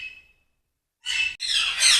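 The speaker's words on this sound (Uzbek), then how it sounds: "Bu yoqda katta qushlar asosan jako, kakado, shunaqa qushlar boqilgan." Large parrots, African grey parrots and cockatoos, at a parrot breeding nursery give a short chirp, then a pause, then two loud, harsh, close squawks in quick succession.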